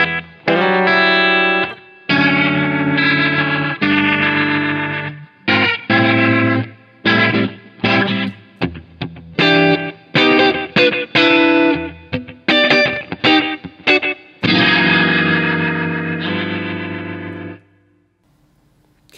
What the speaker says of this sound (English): Preset 1 is dry amp with a little slapback